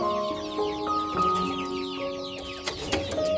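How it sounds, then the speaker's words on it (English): Several chickens cluck and chatter close by in an outdoor setting, with overlapping calls and occasional sharper clucks rising above the flock. "Let's feed some chickens and wild chickens as well."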